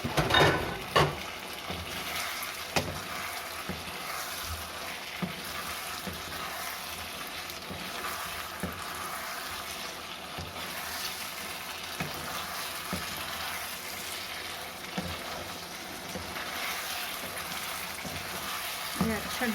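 Chicken 65 simmers with yogurt in a pan, giving a steady, even sizzle and bubbling that continues without pause, with occasional faint stirring scrapes.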